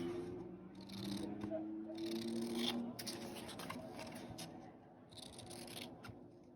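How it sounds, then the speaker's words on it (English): Scissors snip through printed paper text for a holiday journal page in a few quiet, close cuts with soft rustling between them, and no voice is heard. "I have to snip some of that off."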